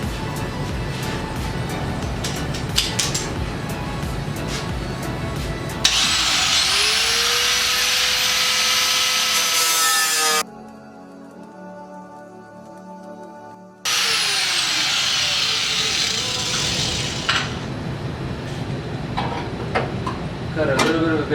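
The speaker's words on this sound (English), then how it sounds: "I'll grab the angle grinder. We'll get to cutting on this, and we'll make our hole in the second layer" An angle grinder cuts into a car body panel on an S14 Kouki build, a loud, close, high whining grind with rising tone shifts, stopping briefly midway before cutting resumes with scattered clanks.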